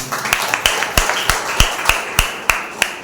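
Applause at a church service for a guest named Maurya ji, a steady run of sharp, loud claps close by, fairly sparse and rhythmic rather than a dense roar.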